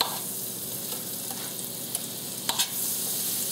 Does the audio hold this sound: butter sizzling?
yes